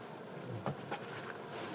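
Honey bees from a small test colony buzz steadily around the hive, a close, continuous drone with a few louder passes.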